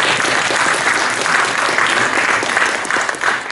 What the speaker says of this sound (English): So one round of applause to all of you guys.